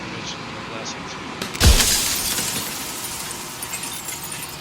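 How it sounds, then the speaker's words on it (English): A mirror shatters in the game Slay the Princess, one sudden loud crash of breaking glass followed by a ringing, slowly fading tail of tinkling shards. "So the mirror shattered again."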